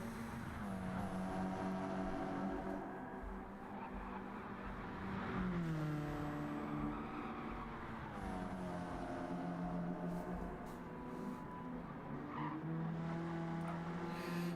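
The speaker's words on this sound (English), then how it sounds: "we can hear a car just behind Happy Pappy here" Engines of cars in a Nissan Silvia touring-car race in a racing video game, loud and continuous, with pitch rising and falling through gear changes and tires squealing, a second car close behind the player.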